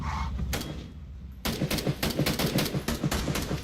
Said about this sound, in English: Oh, we're getting shot at.